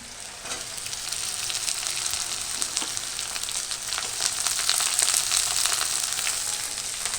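Whole garlic cloves frying in hot oil in a pan, a steady close hiss of sizzling with a few light stirring clicks, uninterrupted by talk.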